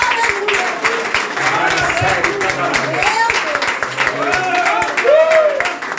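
A church congregation applauds the Lord during a Portuguese-language sermon: a lively crackle of many clapping hands mixed with raised voices, fairly loud and continuous throughout.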